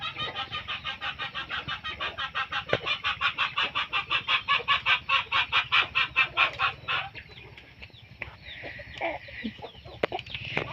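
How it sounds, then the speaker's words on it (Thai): Chickens cluck in a dense, rapid rhythmic chorus close by, loud and steady for about seven seconds before easing into quieter scattered clucks and calls. "ใส่ไก่เจ้า"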